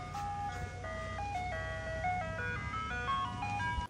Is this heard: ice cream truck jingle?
yes